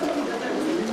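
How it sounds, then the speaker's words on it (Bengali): A Damascene pigeon gives a low continuous coo, close and moderately quiet, with faint murmur around it. "দামাসিন কবুতর।"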